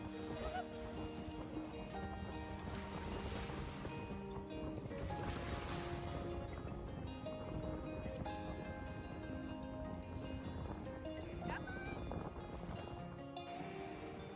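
Waves break and wash continuously onto a Great Lakes shore, a soft, distant rolling surf with some wind, faint and steady throughout.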